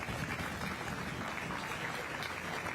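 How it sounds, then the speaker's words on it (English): Crowd applause at a county beef cattle show, honoring the showmen exhibitors; steady, even clapping fills the whole stretch at a moderate level with faint voices beneath. "Let's give them a round of applause."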